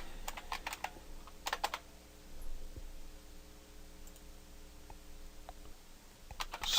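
Command being typed on a computer keyboard into a terminal, quiet scattered key clicks in small bursts over a low steady hum, close but soft.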